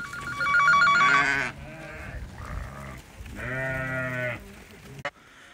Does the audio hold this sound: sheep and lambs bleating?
yes